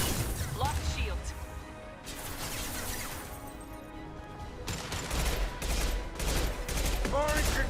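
Concussive shot abilities fire during Mass Effect 2 combat: loud repeated blasts and crashes over a busy battle din, with voices speaking throughout.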